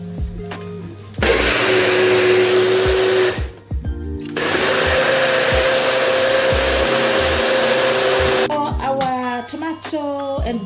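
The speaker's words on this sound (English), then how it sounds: "We're just gonna blend our basil and tomato sauce." A blender purées basil and tomato sauce for spaghetti and meatballs in two loud, sustained whirring runs separated by a brief pause, then a short tonal tail.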